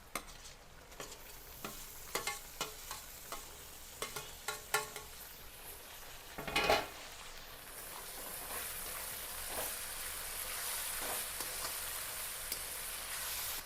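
Tomatoes tossed into browned onions frying in a pan for green pigeon pea dal. Quiet spoon clinks and stirring come first, then a soft splash as they go in, followed by a steady, close sizzle that keeps going.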